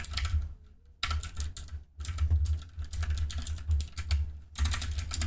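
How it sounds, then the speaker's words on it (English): Rapid clacking of computer keyboard keys in bursts with brief pauses, close and fairly loud over a steady low hum, no voices. "I'm typing that wrong."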